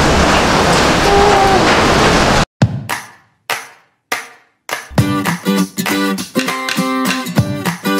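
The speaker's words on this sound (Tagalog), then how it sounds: "super lakas ng hangin and super lakas ng ulan" Strong typhoon wind and heavy rain during Typhoon Quinta at Signal No. 3 in Batangas Province roar as a dense, steady wash for about two seconds. The sound then cuts off abruptly, followed by choppy bursts of voices.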